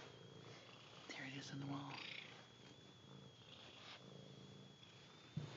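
A house cat purrs softly with a low, steady rumble under a person talking quietly close by.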